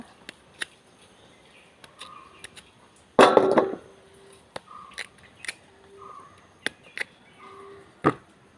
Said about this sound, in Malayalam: ചെറിയ ചെറിയ പീസായിട്ടാണ് ഞാൻ മുറിക്കുക